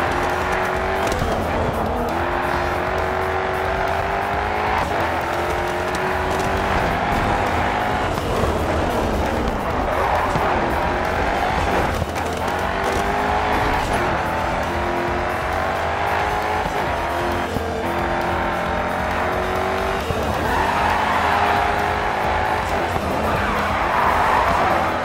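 Race car engines roar continuously in the Grid 2 racing game, with repeated tyre squeals and skids over a loud, steady engine drone, the car's right rear wheel damaged.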